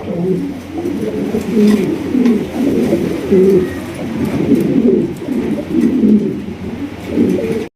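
Large fancy pigeons, a pair of Marshal birds among a cage full of breeds, cooing in repeated low rolling phrases, close and continuous, with overlapping calls from several birds.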